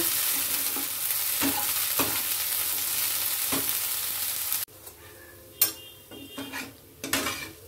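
Bottle gourd leaf paste with turmeric and salt frying over a low gas flame, stirred in the pan: a dense, even sizzle with soft scraping strokes that suddenly drops to a quieter crackle with sharper clinks of the spoon.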